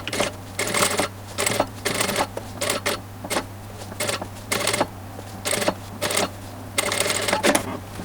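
A sewing machine stitches hat pattern pieces for a sun hat in short bursts of rapid mechanical clatter, with a constant low motor hum through the pauses between runs.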